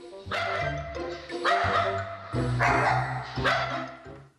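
Several dogs bark and yip in repeated bursts, loud and close, with short gaps between the volleys.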